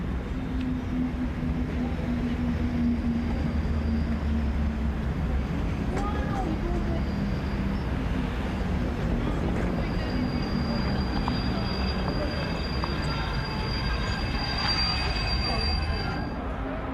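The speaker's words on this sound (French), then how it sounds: "Voie libre pour ce Lyon-Genève Vespéral qui restera comme le dernier service international des CC 6500" An SNCF CC 6500 electric locomotive passes on a Lyon–Geneva train, with a continuous loud rumble of rolling stock and high wheel squeal for the whole length, close and steady, under a voice narrating.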